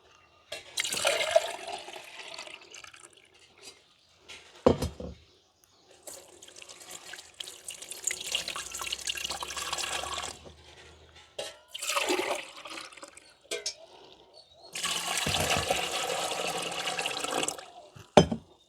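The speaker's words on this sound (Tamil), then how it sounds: "ரெண்டு கப் அளவில் தண்ணி சேர்க்க போகிறோம்" About two cups of water pour from a cup into wheat flour for a sweet village-style dough, heard close in several separate splashy bursts with quiet pauses between.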